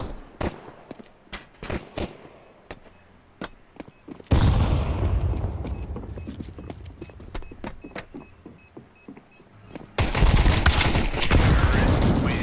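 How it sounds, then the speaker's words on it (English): Video game gunfire rings out as sharp, separate shots spaced through the first few seconds, then bursts into louder, denser volleys and a heavy roar near the end, all close and prominent with no voices. "He's shooting."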